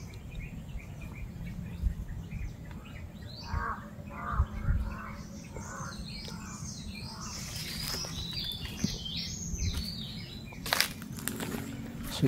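Crows cawing in scattered calls at a moderate distance outdoors near a house and tall stairs, over low background rumble and occasional footsteps.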